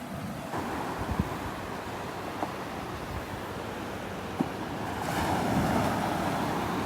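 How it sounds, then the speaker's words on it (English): Ocean waves break and wash onto the beach at Delnor-Wiggins, a steady roar of surf with wind noise and a swell in intensity toward the end, with no voices. "Look at the waves. As the wave builds up, you can see the blues and the greens."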